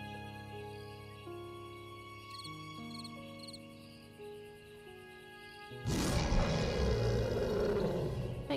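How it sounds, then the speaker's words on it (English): A leopard in the video game Primal Earth lets out a loud, broad roar that bursts in partway through, following several seconds of quieter game ambience with steady tones and faint chirping. "Can you roar again?"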